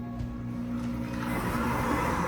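A kitchen blender whizzes fire cider ingredients into an orange liquid, giving a steady, loud motor whir throughout that grows slightly rougher as the mix churns.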